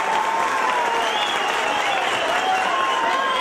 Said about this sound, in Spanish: Reciban por parte de nosotros un fuerte aplauso